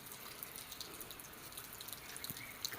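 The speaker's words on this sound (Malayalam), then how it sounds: "അവിടെ പൈപ്പിൽ വെള്ളം തുറന്നിട്ട് കളിക്കുകയാണ്" A household pipe tap runs and drips faintly while a young child plays with the water, soft splashes and droplets scattered over a steady low trickle.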